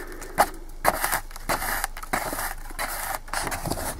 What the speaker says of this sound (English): Pull your thread out.